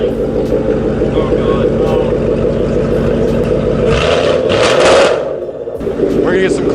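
A Ford Mustang 5.0 with a catless setup and Roush axle-back exhaust idles with a loud, choppy burble, then barks through a sharp rev and settles back, close to the tailpipes.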